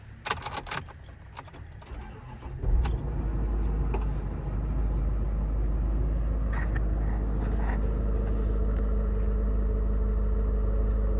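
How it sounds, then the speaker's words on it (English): A 2022 Ford F600 service truck with a 6.7 diesel, 4x4 and a crane body, starting off with a door and key clatter, then settling into a steady, loud low engine drone as it drives, with no talk. "I'm gonna hop in the truck and take it for a quick spin."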